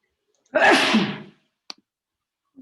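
A single loud, sharp sneeze bursts out clearly, followed by a faint click and brief quiet.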